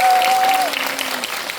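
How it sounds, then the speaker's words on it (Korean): A theater audience at a film talk event claps for an actor, a brief burst of moderately loud applause that fades slightly, with a faint tone running beneath. "고생하신 우리 정세 배우님께 박수 한번 부탁드립니다."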